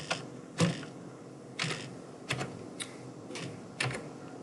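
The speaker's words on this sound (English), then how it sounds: "I don't know what's happening with my keyboard." Typing on a computer keyboard in a quiet room, with soft, scattered keystrokes that come in uneven clusters.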